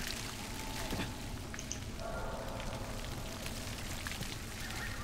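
Rain in the video game The Last of Us falls steadily in a dense, even patter, soft and continuous at low volume, with faint gameplay sounds layered underneath.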